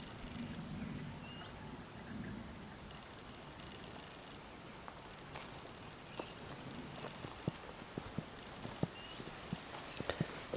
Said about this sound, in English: It's the noise of my wellies.